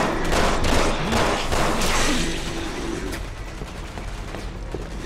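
Gunfire in Resident Evil 6 co-op play: a dense, continuous volley of rapid shots crackling without a break, loud and busy, fading slightly toward the end.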